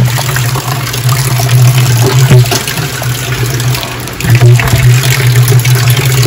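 Loud, steady water pouring into a drum, collected to water plants, with a constant splashing rush and a low resonant hum throughout, briefly dipping midway before resuming strongly.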